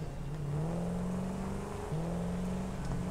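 Explorer vehicle from the game Satisfactory driving with a steady engine drone whose pitch holds level, dips once and climbs again, loud and continuous with no talk over it.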